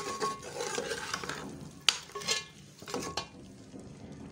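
Desi chicken pieces sizzle and fry in masala over medium heat, with steady broad crackling, scraping stirs from a spoon against the pan and one sharp metallic clink partway through, close and clear with no talking.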